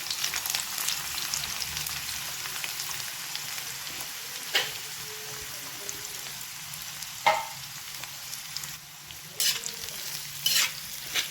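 Sliced onions fry in hot oil for a dhaba-style matar masala, a steady crackling sizzle with periodic scrapes and clicks of a stirring spatula close by, no talking.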